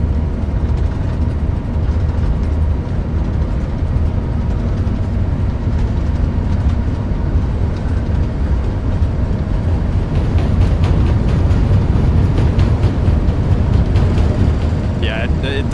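Wheels of an Airbus A380 rolling down the runway on the takeoff roll in a flight simulator game: a loud, steady, deep rumble with broadband roar that holds throughout and swells slightly toward the end.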